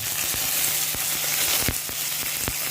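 Onions, curry leaves, mustard seeds and garlic fry in hot oil for a Mangalore-style clam dish, giving a loud steady sizzle broken by sharp pops and crackles, with no one speaking.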